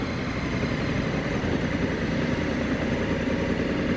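A 2022 Honda Africa Twin DCT motorcycle engine idling, a steady close low rumble with an even throb that holds unchanged throughout, no voices.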